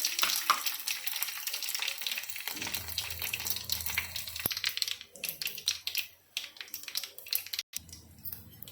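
Coriander seeds, dried red chillies and garlic sizzling in a pan, a fizzing crackle that thins midway and continues with scattered pops and clatter, fairly quiet overall.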